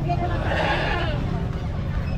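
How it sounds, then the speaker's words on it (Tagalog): Goats bleat at a busy pet and farm animal market in Bocaue, a wavering cry held over dense crowd babble and nearby talk. "daming kambing."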